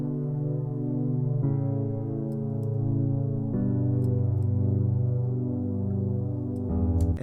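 Verse chords from a song, played as sustained synth chords that change every couple of seconds in a smooth, steady progression with no vocals.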